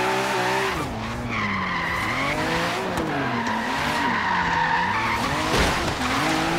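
Loud, sustained tire squeal with wavering pitch over a revving engine, continuous throughout, no speech, from a Lexus RC F drifting in Forza Horizon 3.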